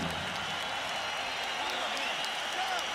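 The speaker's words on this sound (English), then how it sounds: "a round of applause for 2 warriors who gave it everything they had in this ring" A boxing arena crowd applauds two fighters after a long trilogy bout, a distant, steady wash of clapping and crowd noise heard quietly throughout with faint voices mixed in.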